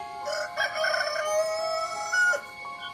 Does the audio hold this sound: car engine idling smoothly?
no